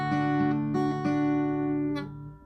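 Strummed acoustic guitar chords for the chorus of a song, played without a capo, with a few rhythmic strums that ring out and fade at the end, moderately soft and alone.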